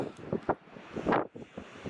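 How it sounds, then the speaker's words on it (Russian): Strong wind gusts buffet the microphone in bursts on a Laptev Sea shore, rough and uneven, with rustling noise between the stronger blasts. "Тут и ветер сильный."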